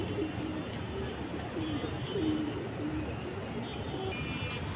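Soft, low cooing from a pair of high-flying Silver Pankhi pigeons, repeated murmuring calls at moderate distance over a steady background hum.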